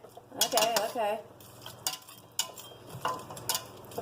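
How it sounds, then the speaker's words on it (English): Broccoli cheddar soup is stirred in a pot, a spoon scraping and clinking against the metal in irregular strokes over a soft sizzle, with a brief voice early on. "Stir for about 1 minute."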